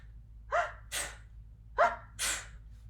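Two sneezes into the inside of the elbow, each a quick sharp intake of breath followed by a bursting expulsion, close and fairly loud with a short pause between them.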